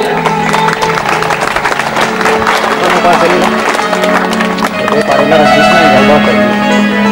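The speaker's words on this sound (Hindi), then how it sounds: "आप सभी तालियों के साथ स्वागत दें।" An audience claps to welcome guests at a ceremony, a dense and loud patter of many hands that runs throughout while a voice carries on over it.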